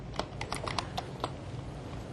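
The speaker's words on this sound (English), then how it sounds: "I got a question while you're diligently typing there." Keys on a computer keyboard tapped in a quick, irregular run of crisp clicks, fairly close, with a steady room hum underneath and no talking.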